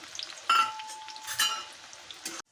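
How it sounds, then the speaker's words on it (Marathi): Finely chopped onion frying in hot oil in a pan, a soft sizzle broken by several clinks and scrapes of a stirring utensil, close and fairly quiet. "त्याच्यामध्ये आपण बारीक चिरलेला कांदा टाकायचा आहे कांदा चांगला लालसर परतून घ्यायचा आहे"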